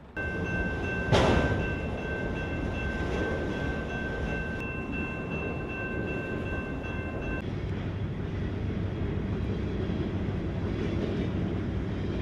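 A train rumbles past steadily and loudly through a London, Ontario city crossing, its wheels droning low with a sustained tonal whine that cuts off partway through, with no voices.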